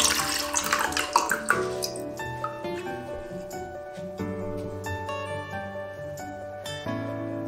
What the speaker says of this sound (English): let me fill out the water first.